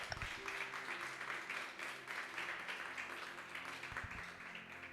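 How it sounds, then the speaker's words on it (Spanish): Church congregation applauding in a sustained, even wash of clapping that holds steady throughout, with some low sustained tones underneath and no clear voices on top. "Dale un aplauso al Señor."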